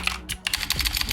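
Rapid typing on a computer keyboard while entering a QEMU command on a Proxmox VE system, a quick run of close, crisp key clicks with a brief pause near the start.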